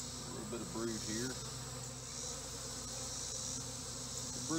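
Honeybees buzzing around an opened beehive during a brood inspection, a faint continuous droning hum with a few close wavering buzzes of individual bees passing near.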